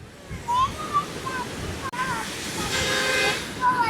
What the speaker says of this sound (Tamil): தண்ணி ஃப்ளோ பாருங்க எவ்வளோ ஃபோர்ஸாக இருக்குது